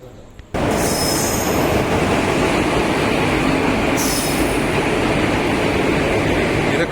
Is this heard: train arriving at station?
yes